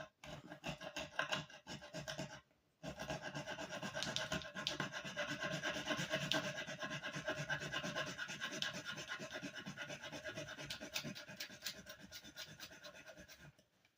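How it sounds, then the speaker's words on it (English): A hand saw cuts through hard, micarta-like knife handle material in a close, steady rasping rhythm of quick strokes, broken by one brief pause early on. "I'll do a little sawing here so you can see how hard this stuff is"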